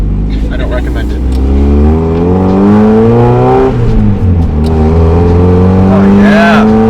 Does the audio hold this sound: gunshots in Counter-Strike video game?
no